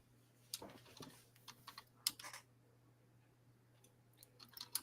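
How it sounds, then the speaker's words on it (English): Quiet, irregular bursts of keystrokes on a computer keyboard, soft clicks coming in short clusters over a low steady hum. "As I'm typing"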